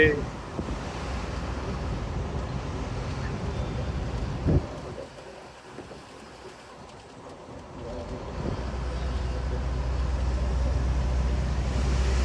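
A Bharat Benz truck pulls away under throttle, a low rumbling engine swelling steadily and growing louder toward the end, with a brief knock midway and a voice speaking over parts of it.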